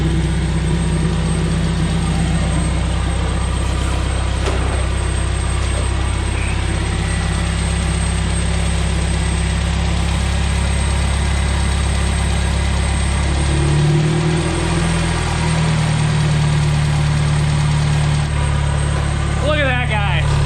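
A Porsche 996 engine idles after throttle body work, a loud, steady low rumble close by with a brief dip in pitch partway through, and voices speak over it.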